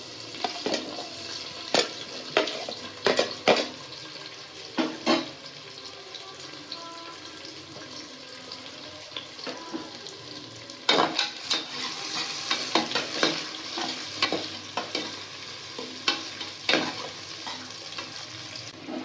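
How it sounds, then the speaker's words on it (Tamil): Onions and green chillies sauté in hot oil for a Thalapakatti-style veg biryani, giving a steady close sizzle broken by repeated scraping stirs of a spoon against the pan, with no talking. "அதுக்கு 4 பெரிய வெங்காயத்தை கட் பண்ணி வதக்கிட்டு இருக்கேன்."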